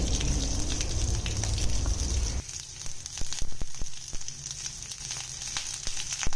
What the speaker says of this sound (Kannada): ಈರುಳ್ಳಿ ಕೆಂಪಾಗೋವರೆಗೆ ಹುರ್ಕೋಬೇಕು